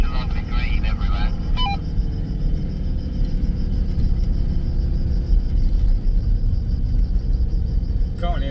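A car driving in third gear along a road lined with pines, with a steady, loud engine and road rumble heard from inside the cabin throughout and faint higher noises now and then.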